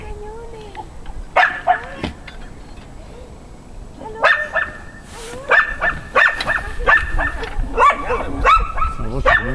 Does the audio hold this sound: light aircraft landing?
no